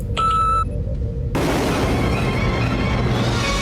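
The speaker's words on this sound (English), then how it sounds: "if we wanted to fire a torpedo, right now I only have it set for the homing torpedo" Star Trek homing torpedo effect played from a Raspberry Pi app: a tonal electronic chirp and hum, then an abrupt loud whooshing burst that sustains as a dense rushing roar, with no talk.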